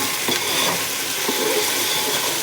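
Pulao ingredients fry and get stirred in a pan, a steady close sizzle with occasional scraping stir strokes, loud and continuous with no talking.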